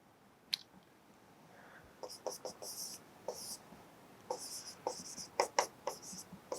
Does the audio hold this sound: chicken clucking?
no